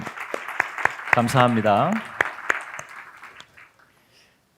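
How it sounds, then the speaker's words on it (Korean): A church congregation at a New Year evening service applauds the worship team. Scattered, fairly close hand claps sound under someone speaking and then thin out to quiet. "우리 수고하신 우리 찬양님 다시 한번, 왜냐하면 세 팀이 달라서 박수로 한번 다시 격려합니다."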